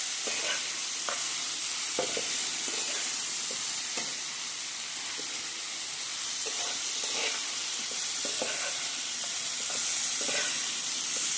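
Potato and cauliflower frying in a pan as a dry mixed vegetable, with a steady sizzle and hiss and repeated scraping stirs throughout, fairly close and alone.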